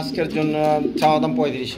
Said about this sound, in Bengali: এটা কি কিং কবুতর কিং কবুতর হ্যাঁ।